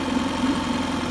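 A new 2020 Tohatsu 9.8 hp outboard motor idles steadily in a tub of water, a close, even mid-pitched engine drone with a fine regular pulse throughout the short stretch.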